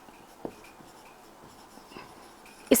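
Brief, faint scratches and taps of writing on a board during a chemistry lesson on crystal field theory, with a few soft strokes and a sharper knock at the end, no speech.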